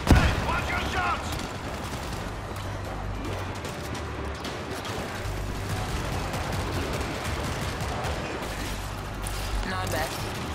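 Sustained gunfire in the zombie shooter World War Z, set in Moscow: a dense, steady clatter of overlapping shots for the whole stretch, with voices talking over the shooting.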